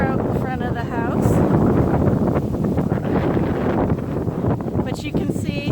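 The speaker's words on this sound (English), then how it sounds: "Quite a bit windier out in front of the house." Wind blowing in front of a house, a steady roaring buffet on the microphone that runs throughout, with a voice speaking over it.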